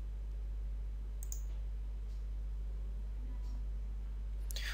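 A computer mouse clicks a few times, faintly and sparsely, over a constant low electrical hum in a quiet room.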